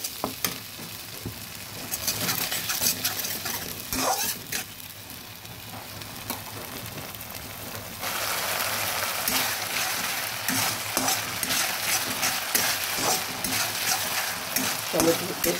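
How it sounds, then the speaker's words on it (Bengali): Tomato paste sizzling in a hot pan while being stirred for a vegetarian kabuli chickpea curry, a steady frying crackle with occasional scraping, growing busier partway through. "টমেটো পেস্টটা ভালোভাবে নেড়ে নিচ্ছি"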